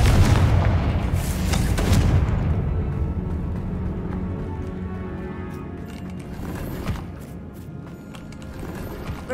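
A Confringo spell explodes in Hogwarts Legacy, a heavy booming blast that rumbles loudly at first and then fades into a long, decaying mechanical rumble with scattered clicks.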